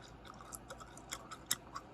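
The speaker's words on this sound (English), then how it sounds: "I'm going to be chewing my goddamn gum" Gum being chewed close up, with soft, quiet wet clicks and smacks in an irregular rhythm and no talking.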